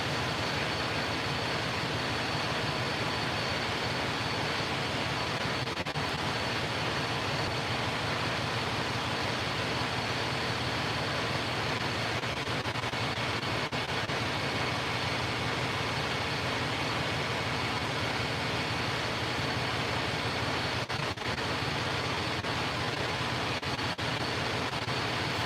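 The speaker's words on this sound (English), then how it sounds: "I don't want to talk over the truck." A truck engine idles steadily after an oil change, a constant broadband rumble that runs unbroken for the whole stretch with no voices over it.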